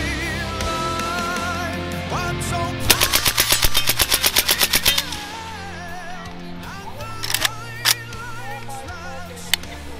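A gun fitted with an auto switch fires one loud, rapid automatic burst of about a dozen shots at an outdoor Independence Day barbecue. A few scattered single bangs follow against background noise.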